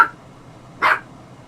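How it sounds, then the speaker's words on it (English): A dog gives two short barks at a Star-Lord helmet, one clipped at the start and a louder one a moment later, close by, with quiet in between. "She's barking at the Star-Lord helmet."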